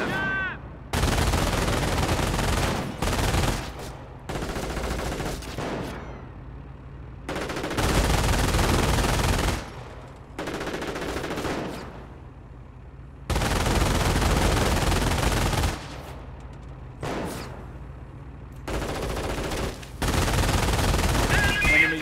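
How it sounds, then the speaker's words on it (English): Half-track machine gun and infantry rifles firing in a Company of Heroes battle, loud bursts of automatic gunfire in repeated volleys separated by short pauses, with a voice breaking in briefly. "they add additional firepower to the half-track's own machine gun"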